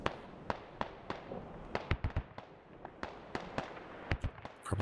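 Mortar shells landing in the military shooter game SquadOps, a string of sharp irregular blasts and cracks, some close together, over a steady hiss of battle ambience with no talking.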